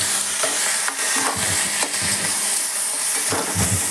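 Boiled banana flower tipped into a hot pan after the spices are tempered, crackling and sizzling loudly while a spoon scrapes and stirs in bursts through the mix.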